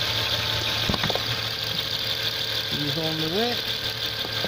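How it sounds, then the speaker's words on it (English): A Land Rover Freelander with a 3.2-litre B6324 petrol engine (171 kW) idles at an auto-parts dismantling yard, giving a steady, continuous low hum close by, with someone briefly speaking over it. "The engine ticking away there nicely."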